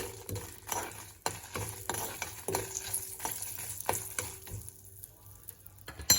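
Red chillies frying in a pan for tomato peanut chutney give a quiet, steady sizzle, with repeated scraping and stirring strokes of a utensil against the pan.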